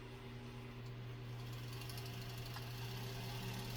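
White 1514 sewing machine winding a bobbin, a steady, quiet motor whir with a low hum running evenly and alone throughout.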